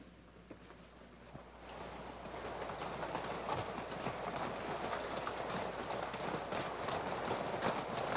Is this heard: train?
yes